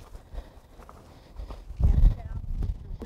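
A horse's hooves clop on hard ground at a walking pace, a few irregular steps close by, growing louder toward the end, with faint voices around.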